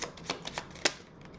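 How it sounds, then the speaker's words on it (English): Tarot cards given a quick shuffle, a few short, close papery swishes and flicks in quick succession, fairly quiet and without talk. "let's give this a quick shuffle"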